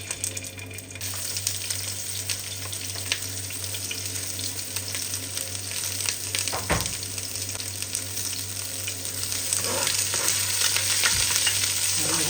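Garlic and onion fry in a pan for laing, taro leaves in coconut milk, giving a continuous hiss that swells slightly toward the end, broken by a couple of sharp scrapes of the stirring spoon.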